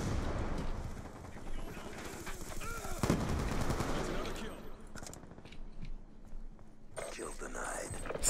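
Sustained rapid gunfire from an AN-94 rifle in Black Ops 2 multiplayer on PC, loud and continuous with dense in-game effects throughout, while a player talks quietly underneath.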